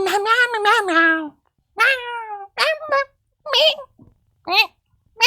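A child-like voice imitates a kitten meowing, a string of about six drawn-out, pitch-sliding meows separated by short pauses, close and clear.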